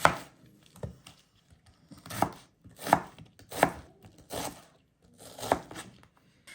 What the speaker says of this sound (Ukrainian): І починаємо різати цибульку. Цибульку нарізаю півкільцями.